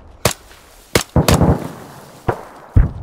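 Gunfire in the Arma 3 combat game during a military operation: five sharp shots spread irregularly, with a quick cluster of bursts near the middle, loud and close, with no talking.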